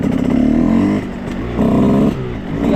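A motorcycle engine revs hard during wheelie practice, loud and close, surging in repeated throttle blips with a brief dip between bursts.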